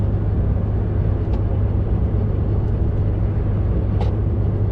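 A car drives along a residential street under about two feet of snow, heard from inside as a steady loud low rumble of engine and tyres with a few faint clicks.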